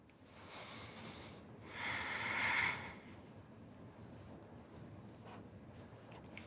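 Forceful, fierce exhale during a breathing exercise, a single breathy burst swelling near the middle and fading, with softer breathing before and after, no talk.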